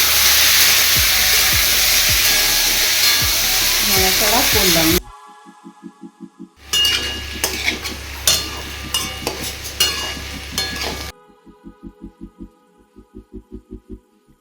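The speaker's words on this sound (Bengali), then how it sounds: "কুমড়ো আলুগুলো ছেড়ে দিলাম। ছেড়ে দেওয়ার পরে একটু নাড়াচাড়া করলাম।" Pumpkin and potato pieces fry in a pan and are stirred, with loud sizzling and scraping at first, then quieter stretches with soft rhythmic pulses between bursts of frying. No one talks.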